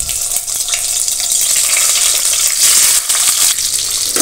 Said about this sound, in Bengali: এবার আমি ডিম চারটা একটু ভেজে নিয়ে নেব